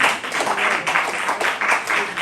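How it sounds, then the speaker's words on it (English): An audience claps together in a short burst of applause, loud and close, with rhythmic swells of hand claps filling the moment. "When I pause, that's when you clap"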